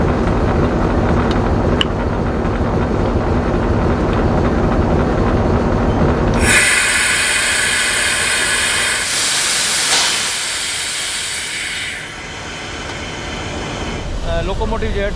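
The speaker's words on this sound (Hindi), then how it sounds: "लोकोमोटिव जो है ट्रेन के साथ अटैच हो गया है" Green Line Express locomotive coupling onto the train between Rawalpindi and Islamabad, heard as a loud burst of hissing air and steam-like release with rail clatter, following a stretch of background station noise and talk.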